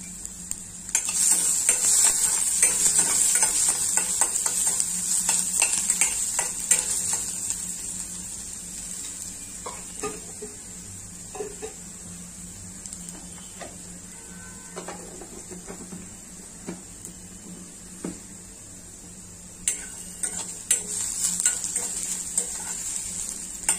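Four cloves frying in oil with peppercorns in a pan for Goan prawns caldine, giving a bright continuous sizzle broken by repeated scraping stirs and small clinks, loudest at the start and again near the end.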